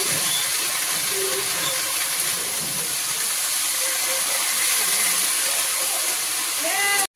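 Greens and potato frying in a pan, a steady broadband sizzle and hiss that runs unbroken at even loudness, close and fairly loud, with faint voices in the background.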